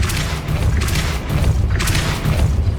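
The Depulso spell cast in Hogwarts Legacy gameplay, heavy booming blasts with deep low rumble, loud and close, pulsing in a few surges across the moment.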